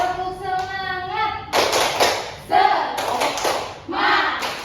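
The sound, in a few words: rhythmic clapping chant by class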